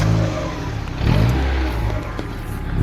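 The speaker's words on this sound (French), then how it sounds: "Tu peux nous faire écouter le bruit moteur par contre?" A Mazda MX5 NB engine is revved up twice close by, rising and settling in a throaty mid-pitched roar with no talk over it.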